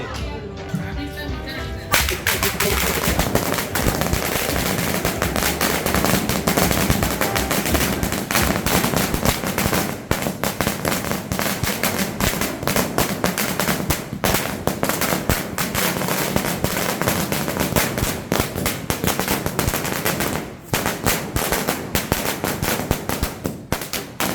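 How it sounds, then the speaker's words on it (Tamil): A long, dense barrage of firecrackers at a street birthday celebration popping and crackling nonstop, loud and close, with sharper bangs standing out from the continuous rattle. "இந்த வெடியை வந்து பாருங்க அந்த பையன் தான் வெடி பற்ற வைக்கிறது"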